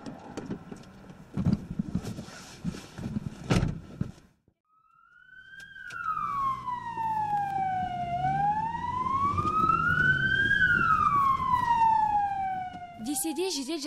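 An ambulance siren wails on busy city streets, rising and falling in a long sweeping tone that starts partway through and then holds loud and steady, with traffic and street noise beneath it.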